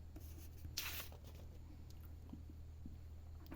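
A line being written on a board: a brief, faint scratchy stroke followed by light tapping and scraping over a low steady hum, no speech.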